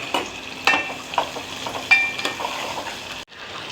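Green chillies and onions frying in a pan for masala dal, a soft continuous sizzle with several scraping stirs of a spoon against the pan, close and moderately loud, ending in a brief cut.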